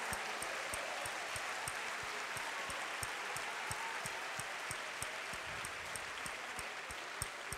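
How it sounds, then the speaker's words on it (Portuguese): A church congregation claps for the Lord in a quiet, distant, steady wash of applause, with sharp rhythmic beats ticking regularly through it. "Aplauda o Senhor, amados."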